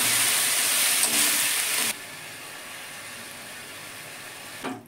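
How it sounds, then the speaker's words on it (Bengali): Chicken sautéing in a pan over a lowered gas flame gives a loud broad sizzle that suddenly drops to a quieter steady hiss, with a brief stirring clatter near the end. "গ্যাসটা লো করে সব কষিয়ে নিচ্ছি।"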